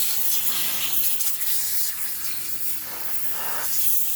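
Water sprays in a steady, close hiss onto a compost pile of kitchen scraps and coffee grounds, soft and continuous with slight swells.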